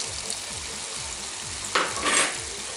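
Herring fries with vegetables in a pan, a steady loud sizzle with faint rhythmic stirring scrapes underneath. A sharper burst of spitting and crackling swells near the end.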